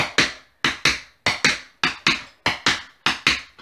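Tap dance shoes doing Irish step combinations, crisp close taps in quick pairs and triplets with a steady rhythm, sharp and loud against a quiet room.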